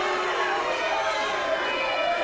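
A wrestling arena crowd roars in a sustained, dense wave of shouting and cheering after a near three count, loud and close, with commentary voices blended into the din.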